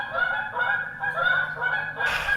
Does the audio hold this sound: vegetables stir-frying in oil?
no